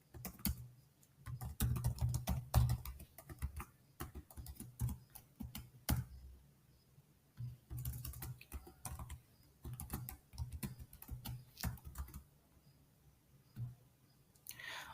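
Typing on a computer keyboard while writing JavaScript code, with steady bursts of close, crisp key clicks and brief pauses, with no talking.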